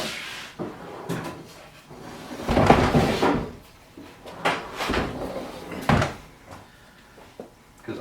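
Workshop drawer holding hammers and tools being pulled open and rummaged through for a long punch: a few close wooden scrapes and knocks with clattering contents, spaced out with quiet gaps.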